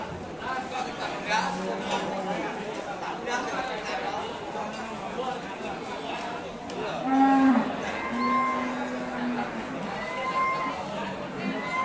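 Cattle mooing at the Winong Kidul cattle market, several loud, drawn-out moos from nearby animals over a busy crowd with people talking throughout.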